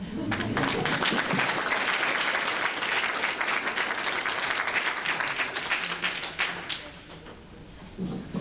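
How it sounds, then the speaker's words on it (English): A crowd claps in sustained, dense applause that gradually thins out toward the end. "And applaud all of yourselves, will you?"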